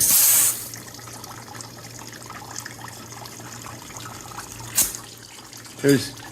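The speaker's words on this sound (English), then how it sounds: "It's forcing the liquid through here because there's now liquid between the inner tube and the tire" Liquid tire sealant trickles and dribbles from the valve stem hole of a punctured tire fitted with an inner tube. It makes a steady, quiet wet flow with a few short, louder gushes.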